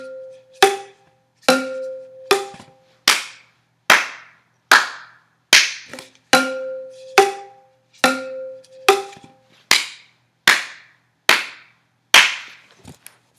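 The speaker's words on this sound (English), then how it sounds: "You just keep clapping the whole time" Steady, evenly spaced hand claps, about one per second and loud and close, played together with ringing bowls during a music lesson, each clap carrying a brief resonant tone.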